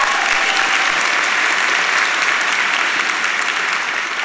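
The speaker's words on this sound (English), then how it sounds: "So just give everybody a round of applause" Sustained applause from a crowd at a spring college commencement ceremony, a dense, even wash of clapping that holds steady throughout and fades only slightly at the end.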